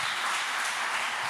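A church congregation claps hands together in worship, a dense, steady wash of clapping that fills the whole brief moment without pause.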